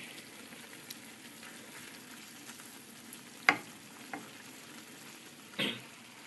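Tofu frying in a pan of spicy eggplant sauce gives a steady, soft sizzle with a few sharper pops and stirring clatters, close and fairly quiet, with no talking.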